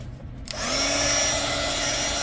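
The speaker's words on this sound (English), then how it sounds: "Let me take my heat gun." A heat gun blasts a steady, loud whoosh of hot air to dry off-white paint on a smashed-tag craft piece, starting abruptly after a quiet moment and holding constant without talk.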